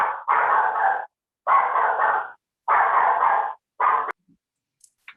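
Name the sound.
dog barking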